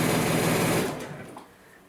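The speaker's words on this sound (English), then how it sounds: "so I'm going to keep stitching" Sewing machine stitching quilt binding in a fast, even run of needle strokes, close and loud, then stopping abruptly just under a second in, leaving a quiet tail.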